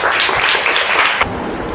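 A class of students in a math lesson breaks into loud, dense group clapping close by, which stops abruptly after about a second, leaving only faint room noise.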